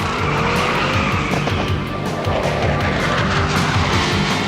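Racing cars roar continuously in the Cruis'n World arcade driving game, loud and up close, with repeated tire squeals and skids cutting through the steady engine drone.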